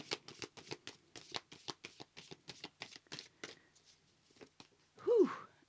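Tarot cards being shuffled by hand, a fast run of crisp riffling flicks, close and fairly quiet, slowing toward the end where a voice briefly speaks.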